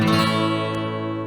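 Guitar picks out a short three-note phrase, the notes ringing and sustaining into one another, close and clear with no voices.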